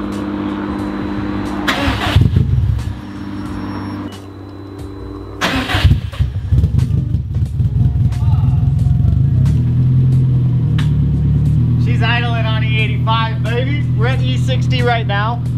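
A car engine running on E85 ethanol fuel cranks and catches on its first startup, with a sharp crank burst, a second start attempt, then a steady rough idle, and someone speaking briefly near the end.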